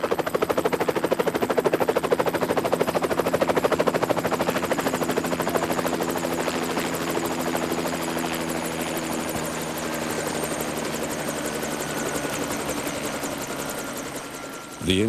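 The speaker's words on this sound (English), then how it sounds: "the helicopter can be heard close to the camp, but cannot be seen" A helicopter thunders close by over a camp, its rotor chopping in a rapid steady pulse with engine whine, loud and continuous before easing slightly near the end.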